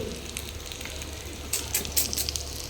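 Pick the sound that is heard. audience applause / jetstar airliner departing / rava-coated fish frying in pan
rava-coated fish frying in pan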